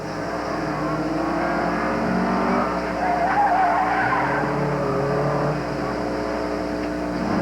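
Honda CRX race car on an autocross run at the 1988 Canadian Solo 2 Nationals, tires skidding and scrubbing under steady engine drone, heard from a distance without a pause.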